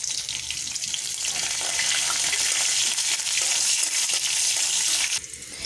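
Onions fry in hot oil with nigella seeds and bay leaf, giving a steady, loud sizzle with light stirring scrapes throughout and a brief dip near the end.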